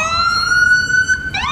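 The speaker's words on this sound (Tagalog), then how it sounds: "May ambulance." An ambulance siren passes along a city street in Ottawa near Parliament, its wailing electronic tone loud and steady, then sweeping upward in pitch near the end, with traffic rumble underneath.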